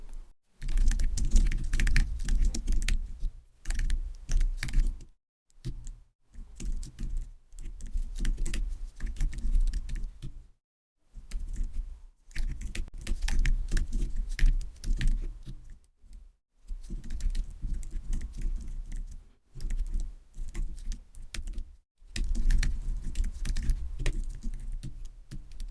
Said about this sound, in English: Let me type the code quickly.